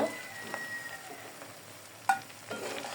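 Shrimp frying in a pan of oil gives a steady soft sizzle, broken by a couple of brief metallic scrapes and clinks as the pieces are lifted out, close up with no talking.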